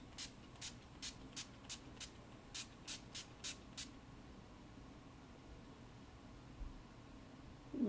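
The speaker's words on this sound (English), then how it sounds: "I use either NYX Matte Finish setting spray." NYX Matte Finish setting spray misted in about a dozen short, sharp pumps, close and crisp, with quiet afterward.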